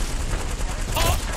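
Gunfire in a shooter video game, a dense rapid burst of shots that is loud and close, running continuously through the whole moment.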